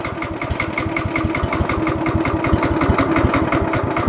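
A stump grinder engine running on wood gas chugs at a fast, steady idle, a loud close pulsing beat that holds evenly throughout without talk.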